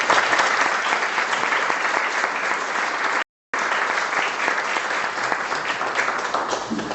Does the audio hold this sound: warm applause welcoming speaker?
yes